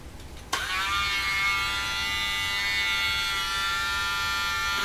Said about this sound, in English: Just going to get out our Dremel.